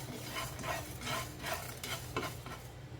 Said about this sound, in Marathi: हे छान आपल्याला दोन मिनटं भाजून घ्यायचं आहे थोडंसं गरम करायचं आहे